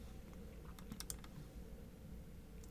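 Quiet, rapid tapping of keys on a computer keyboard as a score is typed into an online exam grading box, with short bursts of clicks heard alone in a still room.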